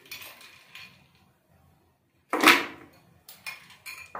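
Ice cubes for a summer shake clatter into a container, one loud rattling burst followed by a few smaller clinks, with quiet handling sounds before it.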